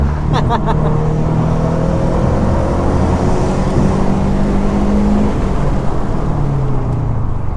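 A 2017 Subaru BRZ Premium drives hard to warm up its tires, its engine droning steadily and loudly with shifting pitch as it revs and pulls through turns.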